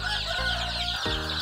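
Several chickens cluck and murmur close by in a continuous, layered chorus, with a few pitch shifts as individual birds call.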